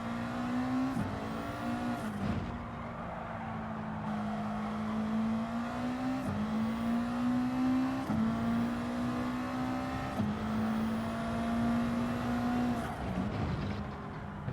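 Subaru WRX race car engine in Gran Turismo 7, a steady loud drone held at high revs with brief dips and rises at gear shifts, running continuously throughout.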